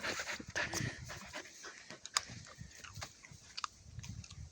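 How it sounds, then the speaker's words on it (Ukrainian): A small, wild-natured dog pants quickly and unevenly at close range, faint rapid breaths with a few sharp snuffles and clicks, set on a farm during a nut harvest. "Така дика собачка, взагалі в руки не дається."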